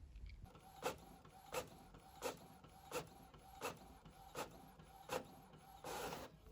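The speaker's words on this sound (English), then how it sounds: "I'm just gonna do a test print of it on some regular printer paper." A printer runs through a test page on regular printer paper, its carriage sweeping back and forth in about eight regular whirring passes, fairly quiet and close, with no talk.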